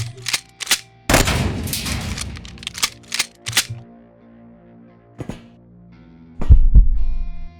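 Gunshots ring out in QuasiMorph, a series of sharp separate cracks spaced irregularly, one longer crunching burst early on, then a few more shots and a heavy thud near the end, loud and close.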